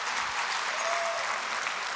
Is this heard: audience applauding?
yes